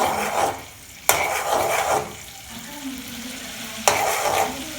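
Oil heating in a pan before onions go in makes a continuous sizzling hiss that swells and fades, punctuated by two sharp utensil knocks against the pan.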